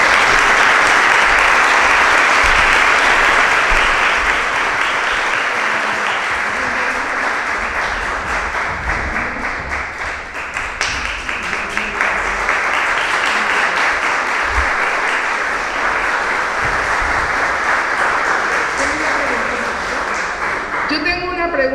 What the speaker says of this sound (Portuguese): Muchísimas gracias y un aplauso